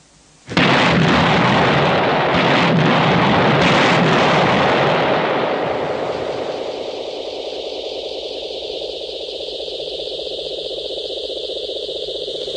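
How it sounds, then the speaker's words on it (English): A British Army 165mm demolition gun fires to demolish the remnants of a bridge, a sudden loud blast followed by a long, heavy roar that slowly fades into a steady hiss. "with its 165mm demolition gun, ready if needed to dismantle final remnants of the bridge"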